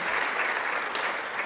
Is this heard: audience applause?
yes